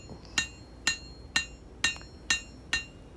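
A hammer forges the bevel of a small integral bolster knife, six evenly spaced ringing strikes on hot steel about half a second apart, close and clear with no talk.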